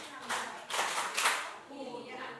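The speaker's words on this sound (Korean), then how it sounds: "자, 서로에게 보약 박수 시작" A church seminar audience clapping hands together in a few loose bursts, with voices underneath.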